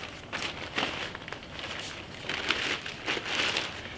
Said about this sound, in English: We're going to put this back in a plastic bag